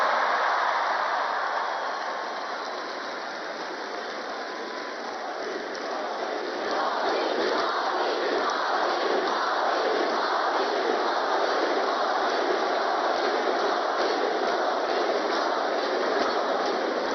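A large crowd at a youth gathering chanting "Modi Modi", a dense, continuous roar of many voices with rhythmic pulses running through it, loud and sustained throughout.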